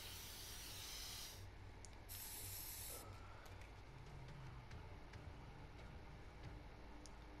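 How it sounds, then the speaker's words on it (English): Aerosol spray painting in the video game Infamous Second Son: a steady hissing spray with bright bursts, faint and continuous over a low background hum, no talking. "I'm not really one to go around and try spray painting places like that, but I'll do it just this one time."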